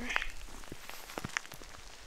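Hail mixed with rain falls on a mountain trail on the Tour du Mont Blanc, pattering in scattered light ticks and taps on nearby surfaces, with a faint voice briefly present.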